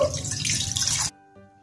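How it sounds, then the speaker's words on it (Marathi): Water pours steadily into a pan on a gas stove for about a second, then cuts off, leaving a faint ringing hum and a small drip. "पॅन मध्ये पाणी घालू।"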